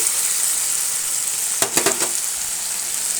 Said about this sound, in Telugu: టమాటా మగ్గు మగ్గుతుంది దీనిలోనే నాలుగు ములక్కాయ ముక్కలు కూడా వేసుకుందాం కలిపి